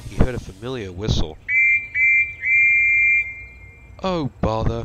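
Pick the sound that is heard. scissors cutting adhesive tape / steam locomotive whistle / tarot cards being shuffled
steam locomotive whistle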